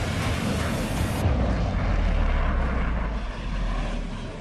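A MiG-29 fighter jet at the Srinagar air base roars with a loud, continuous, broadband rumble that holds steady for several seconds, with no voices over it.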